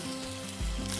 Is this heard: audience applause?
no